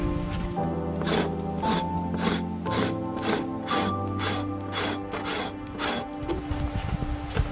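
A tool scraping membrane from a moose hide makes a rhythmic series of rasping strokes, about a dozen evenly spaced pulls over a low steady hum, close and without speech.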